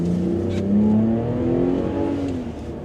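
A 2025 Ram truck's inline-six Hurricane engine revs steadily up close, its harmonic drone rising and holding for a few seconds before easing off slightly at the end.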